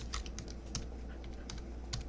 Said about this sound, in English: considering how fast I'm typing this